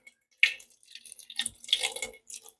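Water from a cup poured into a large cast iron Dutch oven to cover the bottom, heard as short splashing and trickling bursts with drips in between, close and fairly quiet.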